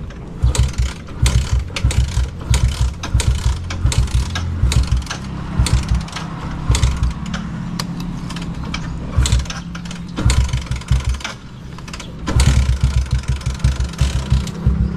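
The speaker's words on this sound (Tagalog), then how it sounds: "painitin muna natin yung kanyang makina" Vehicle engine being warmed up: a mechanical, ratcheting rattle with repeated clattering bursts over a low rumble, loud and close, pausing briefly around the middle before picking up again.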